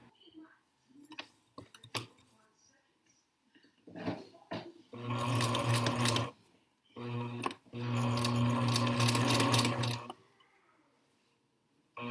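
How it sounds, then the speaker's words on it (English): A sewing machine stitches along the fly facing edge of boxer shorts, 3/8 inch from the fold, running in three close, steady motor bursts after several faint handling clicks. "we're going to take that to the machine and we're going to stitch along this edge"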